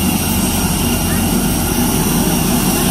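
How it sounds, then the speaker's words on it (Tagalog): Airplane passing overhead near a Manila airport, a loud continuous engine roar filling the whole stretch close by, with people talking under it. "Ayan na aeroplano."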